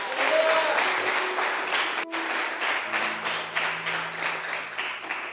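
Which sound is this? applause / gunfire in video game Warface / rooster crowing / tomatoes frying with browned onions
applause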